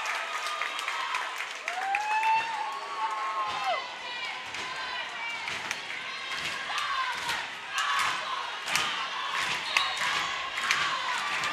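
Crowd noise from a high school regional semifinal playoff basketball game, with sustained cheering, applause and scattered shouts, sneaker squeaks and ball thumps on the court, a steady loud wash throughout.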